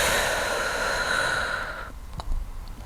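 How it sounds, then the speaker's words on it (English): A person takes a long, slow breath during a hip stretching exercise and releases it as a deep exhale, followed by a short quiet pause and a soft snort-like breath at close range. "3 deep breaths here, breathing in, exhale to reach."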